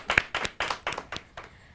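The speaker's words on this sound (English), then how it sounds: "let's give Mr. Bibas Chowdhury a big round of applause" Studio audience applauding a guest artist on a New York talk show, a short burst of claps in loose bursts that fade away over under two seconds, fairly close and moderately loud.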